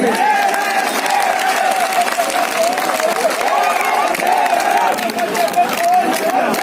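A large crowd at a political rally for Om Prakash Raghuvanshi claps and cheers loudly and continuously, with whistles and crowd noise mixed in.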